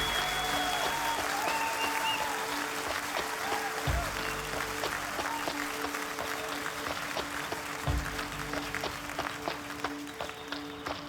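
Live concert audience applauding a hurdy-gurdy player at a performance, dense steady clapping throughout with a low musical drone beneath, fairly close and loud.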